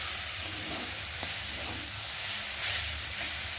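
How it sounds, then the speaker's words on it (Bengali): Leafy greens (shak) frying in a home kitchen pan, a steady soft hiss and sizzle with faint scattered crackles throughout, no voices. "আর এখানে এই যে শাকটাকে ভাজছি"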